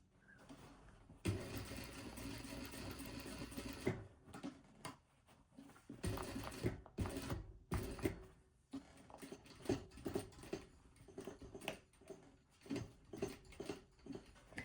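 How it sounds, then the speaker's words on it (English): Sewing machine stitching along one side of a hole in a pair of jeans, running in bursts of steady mechanical whirring separated by short pauses, close and clear with no talk. "I'm starting stitching along one side of this hole and taking pins"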